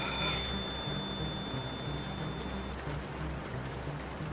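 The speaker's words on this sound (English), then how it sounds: "The sound of the rain was unable to conceal the ringing phone." A phone rings insistently in the Snowbreak video game, its shrill tone cutting through a steady, broadband wash of rainfall over a deserted city, with the ringing fading after a few seconds while the rain keeps going.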